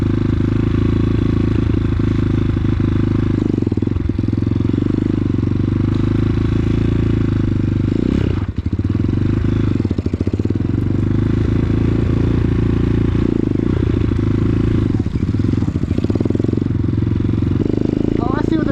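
An X-Pro Titan 250cc dirt bike rides slowly with a loud, steady low engine drone, close to the microphone, under wind buffeting and clatter, with a voice speaking over it.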